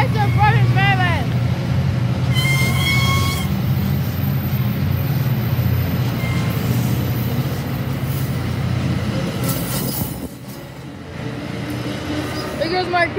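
A MARC commuter train, P877 bound for Brunswick, Maryland, rumbles steadily past up close, its low roar constant throughout, with a horn-like tone early on and people talking over it.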